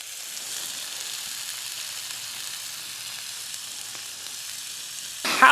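Locally raised bacon sizzles over a campfire, a steady even crackle and hiss held close throughout, ending in a brief louder burst of sharper noise; no one speaks.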